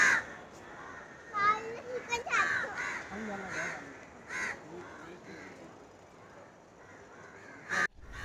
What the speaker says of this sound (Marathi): झाडावरती तर कावळे बसलेत आणि ते ओरडतात